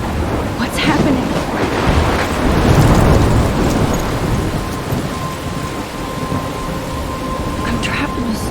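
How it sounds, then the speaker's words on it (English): A thunderstorm in the video game Life Is Strange: heavy rain pours steadily while deep thunder rumbles and swells loudly near the middle, then eases back into a dense, constant downpour. "I'm trapped in a storm?"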